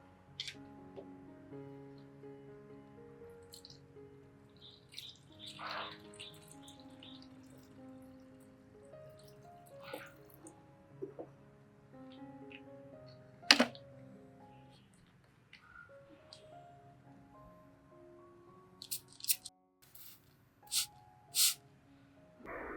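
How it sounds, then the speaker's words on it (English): A hand sprayer mists water over an orchid plant's leaves, giving several short, sharp hissing bursts toward the end after a long stretch of quiet background rustling. "The second way is to use this water to mist the plant."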